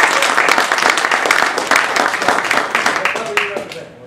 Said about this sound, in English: Come on, that deserves a round of applause.